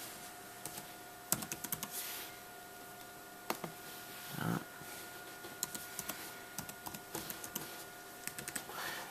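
Keys clack on a computer keyboard as a password is typed during Mac OS X mail setup, a quiet, irregular run of sharp close taps with short pauses, alone with no talking.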